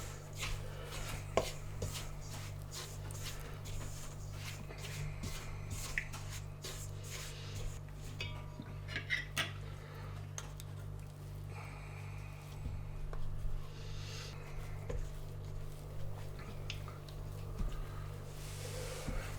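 Pastry dough for quiche Lorraine being stirred with a wooden spoon, producing soft sticky squelches and scrapes that repeat irregularly over a steady low hum, fairly quiet and close.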